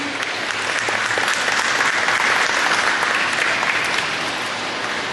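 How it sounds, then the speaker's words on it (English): Loud, sustained applause from a county fair show crowd fills the space, a thick wash of many hands clapping at once that stays level and unbroken throughout. "Gentlemen, go ahead and turn around to a big round of applause and have your seat."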